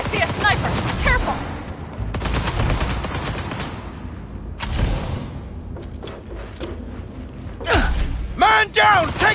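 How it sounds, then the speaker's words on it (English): Gunfire in the video game Cyberpunk 2077, loud rapid automatic bursts and single shots in a chaotic firefight, with voices shouting over the shooting. "I am taking fire!"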